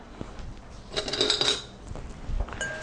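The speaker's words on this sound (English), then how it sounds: "now I'm going to give this a quick whisk" Quick whisking of dry ingredients for corn bread, including sugar and salt, in a bowl, a short burst of light metallic scraping and clinking against the bowl, close and fairly soft with no talking.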